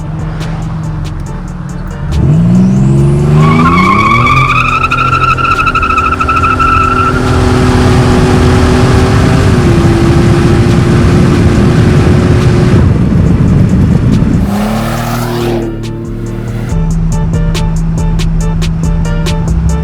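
A 1987 Buick T-Type with performance modifications accelerates hard from a standstill, its engine rising loudly through the revs while the rear tires spin and squeal, then the engine eases back to idle.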